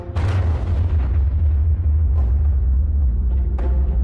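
Nuclear bomb test explosion from the Operation Crossroads Baker shot, a sustained deep, loud rumbling roar with a sharp burst at the start and later crackling pops, filling the whole clip with no talk.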